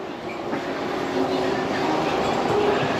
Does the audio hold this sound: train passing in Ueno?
yes